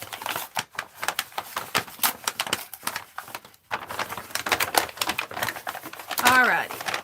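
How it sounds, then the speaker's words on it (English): A paper sack is opened and crinkled by hand for a recycled art project, with dense, close, irregular rustling and crackling bursts in a few short pauses, ending in a brief sharper crunch. "Let's just open up this this paper sack here."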